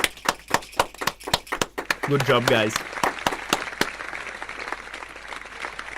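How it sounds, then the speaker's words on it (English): Applause for four students at a medal award ceremony: a run of sharp, separate claps fills the first few seconds, then fades to a softer wash while a person speaks over it. "Big applause."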